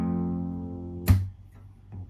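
An acoustic guitar chord plucked on strings 2, 3 and 4 rings for about a second before being muted with a soft thump, leaving faint residual noise.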